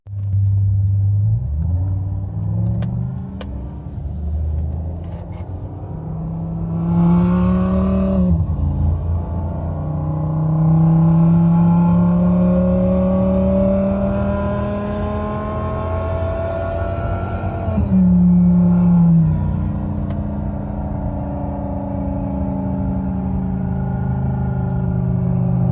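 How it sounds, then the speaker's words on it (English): Simulated V8 engine sound from a phone sound app playing inside a Toyota Camry driving on the road: a loud, continuous low rumble with rising and falling revs through several gear changes, heard alone. "Let's see how it sounds on the road."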